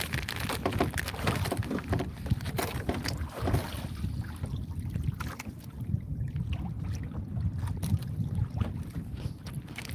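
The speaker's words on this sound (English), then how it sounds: "I hear an engine running behind us." A boat engine runs nearby on the water during an evening fishing outing in the Philippines, a steady low churning drone mixed with wind buffeting the microphone and splashy noise throughout.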